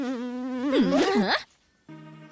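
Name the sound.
fly buzzing in a cartoon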